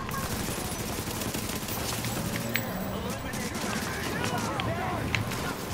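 Dense bursts of automatic gunfire in the shooter video game The Division crackle almost without pause, a busy fusillade of shots in the background while players talk over it.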